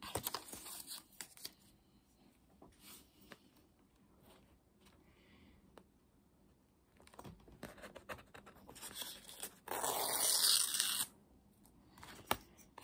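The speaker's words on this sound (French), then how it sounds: "Elle n'a pas pris de ciseaux, elle n'a rien pris, donc elle déchire." Paper is torn by hand in several short rips, quiet and close, with one longer, louder tear near the end among soft rustling.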